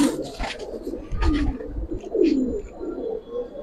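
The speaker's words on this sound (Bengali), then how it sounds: "নটটা এত সুন্দর করে ডাকতেছে দেখেন" A male silver Giribaz pigeon coos close by in a few throaty, rolling bursts, with faint background chatter and light rustling between the calls.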